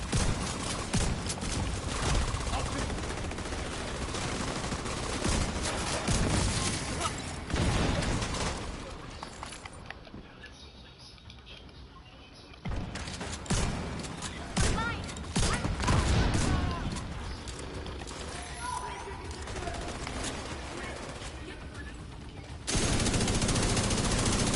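Dense, loud automatic gunfire rattles in long bursts in the video game The Division 2, briefly easing off partway through before the shooting resumes at full intensity.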